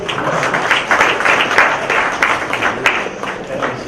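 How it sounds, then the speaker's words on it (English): Seminar audience applauding a documentation speaker, a lively round of many hands clapping, close and fairly loud, with uneven swells across a few seconds. "Yes, you should clap for that."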